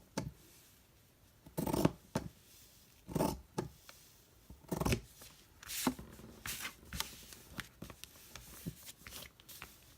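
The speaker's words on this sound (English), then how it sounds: "These scissors are so hard to use." Scissors snip paper for a fabric-flip craft project in a series of quiet, irregular cuts and rustles, close by, with pauses between snips and no talking.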